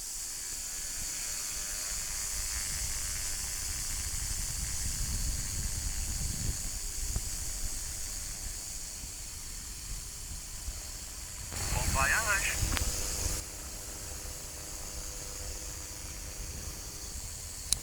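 A light aircraft's engine drones steadily from inside the cockpit through its takeoff and climb, a loud continuous hum with a brief rise partway through and a voice talking over it.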